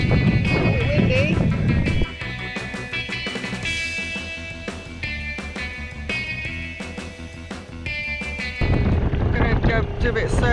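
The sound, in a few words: wind on a sailing boat heading to shore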